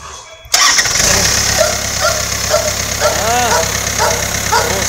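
Perkins four-cylinder diesel engine in a Bobcat cranking and catching, then settling into a steady, loud rumbling idle close by, with a person talking faintly over it.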